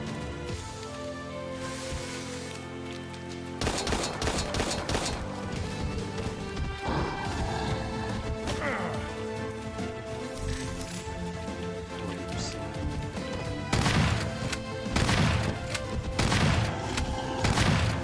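Gunfire and smashing impacts in the Resident Evil game, burst after burst of sharp cracks over dense game music and effects, with a voice talking now and then.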